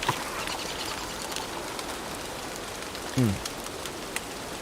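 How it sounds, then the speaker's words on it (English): Rain falling in the video game Don't Starve, a steady soft hiss of drops with brief muffled thumps and a short rising chirp partway through. "Oh, and you get this nice fucking rain sound."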